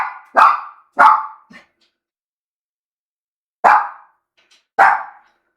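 A dog barks in two bursts: two or three close barks and a short yip, then a pause of about two seconds, then two more sharp barks, loud and near with silence between.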